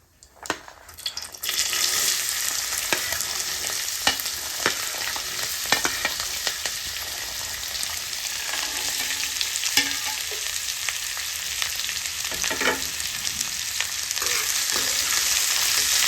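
Cut French beans sizzle and crackle in a hot pan while being stirred, a brief quiet start giving way to a steady loud hiss with occasional scraping and clatter from the spoon.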